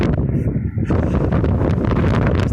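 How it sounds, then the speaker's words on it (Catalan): Strong wind blows across a steep mountainside, roaring and buffeting the microphone loudly and continuously with only a brief dip near the start. "No sé com aguanto amb aquest vent."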